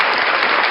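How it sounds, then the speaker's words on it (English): A crowd claps in dense, steady applause, loud and close, filling the whole short moment with no voices over it. "Round of applause for unclean hands."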